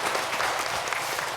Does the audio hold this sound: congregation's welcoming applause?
yes